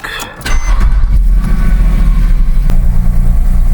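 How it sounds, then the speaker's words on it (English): Porsche Cayman engine cranking and catching, then settling into a loud, steady idle with a deep low rumble, close by. "let's start up the Cayman here"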